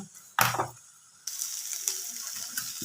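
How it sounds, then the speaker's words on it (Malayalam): Egg and onion frying in a pan are stirred, giving a sharp scrape at first, then a steady close sizzle with light utensil clicks running under it. "ഉള്ളി മുട്ടയും എല്ലാം കൂടി ഒന്ന് ഇളക്കി എടുക്കുക"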